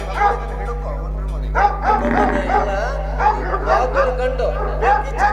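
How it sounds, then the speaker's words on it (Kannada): A male dog barks in a Kannada comedy skit, with yips and short bow-wow calls scattered through steady talk and a low constant hum. "ನಾಯಿ ಕಡಿಯಕ್ ಬಂತ ನನ್ನನ್ನ"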